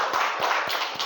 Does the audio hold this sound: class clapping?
yes